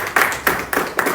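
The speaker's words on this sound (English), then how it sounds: "A round of applause." A few distinct claps after a speech at a dyslexia awareness event, four sharp hand strikes in an even rhythm, close and fairly loud, with no voices.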